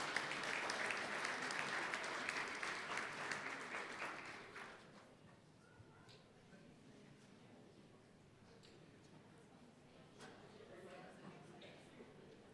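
Applause from a school board meeting audience recognizing middle school winners, loud and dense for the first few seconds, then thinning to scattered claps and faint room noise.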